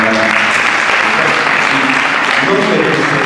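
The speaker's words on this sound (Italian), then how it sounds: "anzi vorrei che facessi un applauso." Loud, steady applause from a crowd at a civic gathering in Guardia Sanframondi, Italy, continuous clapping throughout with a voice faintly beneath it.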